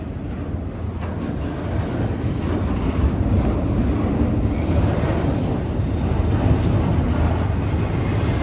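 A long KCS manifest and intermodal freight train loaded with shipping containers rolls slowly past nearby, a steady, heavy rumble of wheels on rail with wind buffeting the microphone throughout.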